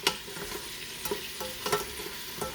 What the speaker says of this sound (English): And there goes the vinegar. And we'll give that a little stir.